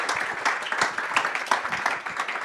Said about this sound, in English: Ladies and gentlemen, please welcome him with a big round of applause